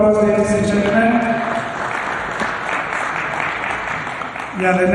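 Applause at a municipal investment summit, clapping running under someone speaking into a microphone and continuing as his voice returns.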